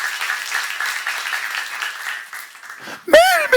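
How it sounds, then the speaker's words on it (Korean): Audience applause at a Korean church lecture on the Book of Revelation, a steady broadband patter of clapping running for about three seconds, ending with a brief burst of voices. "박수."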